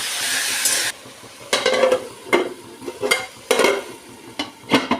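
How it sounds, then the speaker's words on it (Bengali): Potatoes added to onion and tomato frying in a pan for aloo posto, a loud sizzle at first, then a series of stirring scrapes and spoon strokes in uneven bursts. "এবার তাতে দিয়ে দেবো আলু, সামান্য নুন দিয়ে নাড়িয়ে চাড়িয়ে ঢাকা দিয়ে দেবো।"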